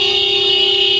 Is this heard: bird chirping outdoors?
no